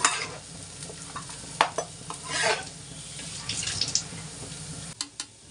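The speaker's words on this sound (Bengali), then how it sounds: "এদিকে আলুগুলো আমার খুব সুন্দর করে ভাজা হয়ে গেছে" Potatoes frying in oil crackle and sizzle steadily in a pan, with a few sharp utensil knocks and scrapes close by and no talk.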